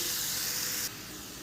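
Onion paste and dry spices sautéing in oil in a pan, a steady bright hiss that holds evenly, then drops to a quieter sizzle near the end.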